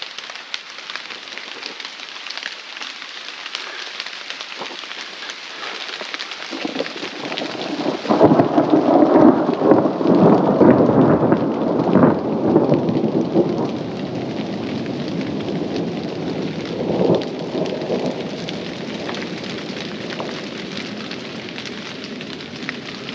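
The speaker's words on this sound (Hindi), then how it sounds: "हल्का फुल्का बूंदाबांदी भी शुरू हो गई है, मतलब बारिश शुरू हो गई है।" Steady rain falls in a rural Indian village while a long rolling thunderclap builds and rumbles loudly for several seconds, then fades back into constant close rainfall, with no voices.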